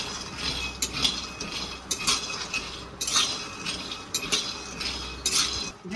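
Raw peanuts stirred in a dry pan while roasting for peanut laddu, giving repeated scraping and rattling clinks at an uneven rhythm, close and fairly loud, with no talking.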